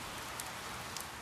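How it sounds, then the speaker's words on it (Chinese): Steady rain falls outside a home, a dense even hiss that keeps on with no break, with a few faint soft tapping drops on top and no voices. "可是外面下雨了"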